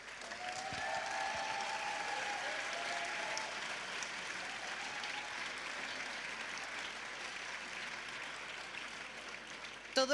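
A large audience applauds the organisers at the close of a team final event, sustained moderately distant clapping that holds steady for about ten seconds before a sharper sound at the very end.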